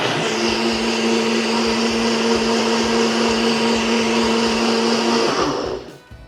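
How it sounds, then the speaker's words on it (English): A NutriBullet blender whirs steadily while mixing hot cocoa, a loud, even motor drone held for several seconds before cutting off and spinning down at the end. "So I've got my NutriBullet blender here."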